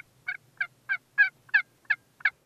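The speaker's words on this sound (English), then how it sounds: "a group of hens started working our way, followed by 3 giant toms" Wild turkey toms gobble in a rapid series of seven short, bright bursts at even spacing, clear against a quiet field backdrop during a spring hunt, with no voices.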